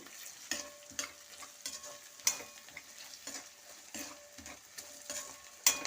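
Potatoes stirred and fried in a pan for Udupi-style tomato bath, with a steady soft sizzle broken by repeated scraping strokes of a spoon against the pan, close up and without talk.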